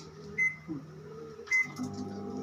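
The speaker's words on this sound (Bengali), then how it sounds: "দেখো এই দিয়ে দিলাম মাইক্রোওয়েভে" A steady low appliance hum with two short high beeps about a second apart, and a faint thump between them.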